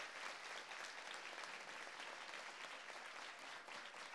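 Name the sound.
audience applauding at a felicitation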